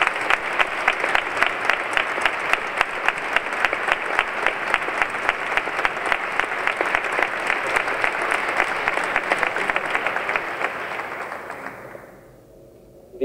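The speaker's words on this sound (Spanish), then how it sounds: "me gustaría que este primer aplauso fuera para su Junta" An audience at a saeta exaltation event applauds the Junta, steady sustained clapping from a large crowd for about eleven seconds before it fades out quickly.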